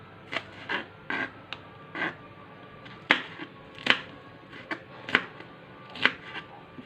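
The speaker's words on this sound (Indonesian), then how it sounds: "kita potong-potong bawang merah dan bawang putih dulu ya Bunda" A knife chops shallots, garlic and red chili on a board, giving close, crisp strikes at an uneven rhythm with brief pauses between them.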